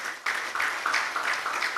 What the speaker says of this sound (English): So with the warm round of applause